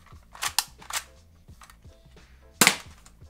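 A toy pellet gun from AliExpress fires several sharp, close snaps spread irregularly over a few seconds, the last shot loudest, against a quiet background.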